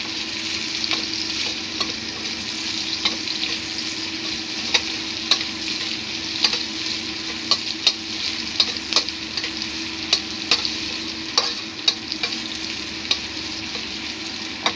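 Red onion fries in a pan with a steady, bright sizzle while a utensil stirs and taps against the pan at fairly regular intervals, close and without talk.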